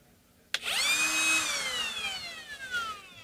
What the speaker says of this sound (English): So I don't know if the router is too loud.